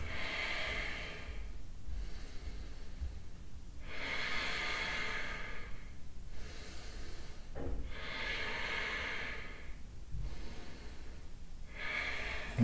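Slow deep breathing during a vinyasa yoga flow, four long hissing breaths evenly spaced a few seconds apart, close and steady over quiet background, with no talking.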